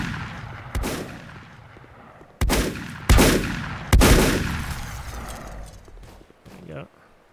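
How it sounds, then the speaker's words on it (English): Gunfire in the game Volcanoids: a few heavy, booming shots at irregular intervals, each with a long rumbling decay, loud and close, with a softer thump near the end. "Are they shooting at me or somebody else?"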